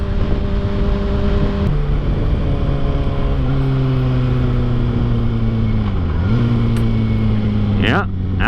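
A Kawasaki ZX6R motorcycle fitted with YouMoTech levers is heard up close while riding, its engine drone shifting pitch as it downshifts, with wind noise throughout and a brief rising rev near the end.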